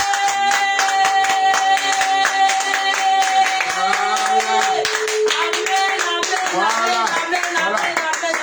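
A church congregation claps in steady rhythm in praise during a sermon, loud and continuous, with a voice singing or calling out over the clapping.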